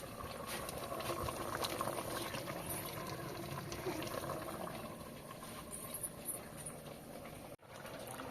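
Rice boiling in a pot for a village-style chicken biryani makes a continuous, fairly quiet bubbling and rushing sound that cuts off briefly near the end.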